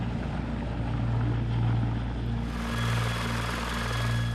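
A CH-53K heavy lift helicopter, loud and close, with a deep, steady rotor throb under a constant turbine whine that rises and brightens partway through.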